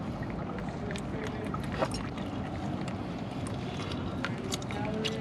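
Motor oil drains from a Dodge Charger Hellcat during an oil change, heard as a steady liquid pouring trickle with scattered splashy ticks, fairly close under a constant noisy background.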